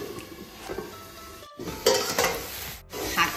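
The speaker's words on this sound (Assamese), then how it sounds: "এইখিনি 2 মিনিটমান ভাজি লওঁ" Leafy greens fry with three crushed pieces of dried outenga (elephant apple) in a pan, a steady sizzle broken by scraping stirring strokes and clinks of a utensil against the pan, close and moderately loud.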